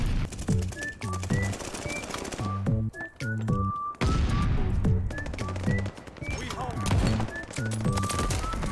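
Call of Duty: Vanguard gunfire crackles in repeated bursts and single shots throughout, loud and dense, with whistling and bird-like game sounds mixed in.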